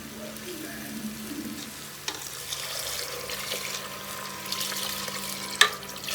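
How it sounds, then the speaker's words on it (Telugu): Water poured into a pot of haleem, heard as a steady hissing splash close by, with a few knocks and a sharp clink near the end, and no talking. "ఇప్పుడైతే దీంట్లో వాటర్ అయితే పోసేస్తున్నాయి"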